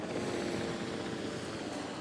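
Helicopter in the Jurassic World Evolution video game, a steady droning rotor and engine hum held at an even level throughout, with no clear blade chop.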